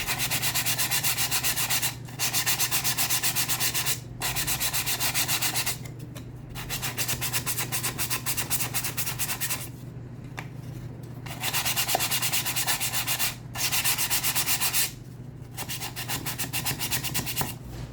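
An MDF board being sanded by hand as preparation for painting: steady, loud abrasive rubbing strokes with only brief pauses, close to the microphone and with no voices.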